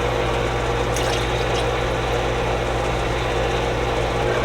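Water pours steadily into a bucket for mixing acid while servicing a marine air conditioner, a loud, continuous rushing flow close by, unbroken throughout with no talk.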